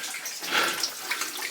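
Water trickles and splashes steadily down a corrugated sheet deep inside an old cavern mine, a continuous close, moderately loud wash with no voices.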